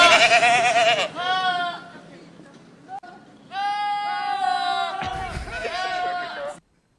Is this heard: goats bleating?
yes